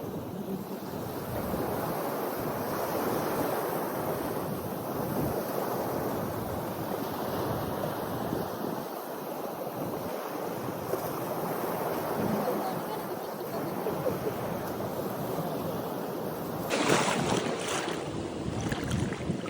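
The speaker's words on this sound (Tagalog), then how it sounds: "Ang lakas ng wave." Ocean waves roar in a steady, dense wash, with wind buffeting the microphone throughout.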